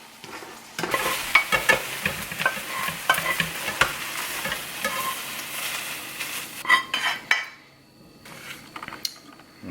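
Ground beef with mushrooms, peppers and onions fries on a stovetop, a close crackling sizzle broken by repeated scraping and stirring clatters of a utensil against the pan, quieting near the end.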